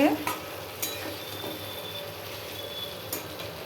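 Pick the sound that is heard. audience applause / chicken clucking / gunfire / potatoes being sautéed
potatoes being sautéed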